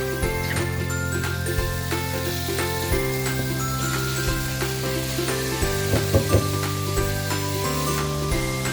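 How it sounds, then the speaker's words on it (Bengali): Marinated chicken cooking in hot oil in a pot, a steady sizzle with occasional spoon clinks and stirring scrapes, close, heard over background music and with no speech. "ভালোভাবে মিক্স করে 2 থেকে 3 মিনিট চিকেনগুলো কুক করে নিতে হবে।"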